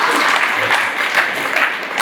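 Lively applause from guests at a Kazakh bride's farewell wedding celebration, a close, steady patter of many hands that swells slightly in places.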